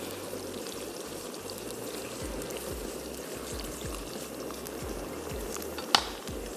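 Onions frying in a pot for mutton biryani give off a steady, dense sizzle with bubbling crackle, close and continuous, plus a single sharp clink near the end.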